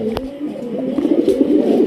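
A black Bombay pigeon cooing up close, a low throaty warble that swells and repeats over a short stretch, alone without talk.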